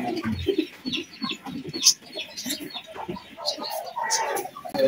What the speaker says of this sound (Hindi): आपको मुर्गे वगैरह के शोर आ रहे होंगे